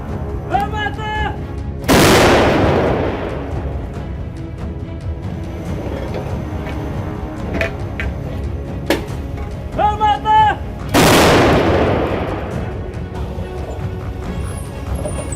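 Two massive artillery cannon blasts about nine seconds apart, each a sharp boom trailing into rumble, with shouted Ukrainian fire commands and background noise between them.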